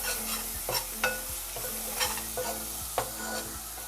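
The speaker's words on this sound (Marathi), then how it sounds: "आता वाटण आपण तेलामध्ये शिजवून घेऊया" A ground masala paste for a mudskipper curry frying in hot oil while a spoon stirs it, giving a steady close sizzle broken by repeated scraping strokes against the pan, with no talking.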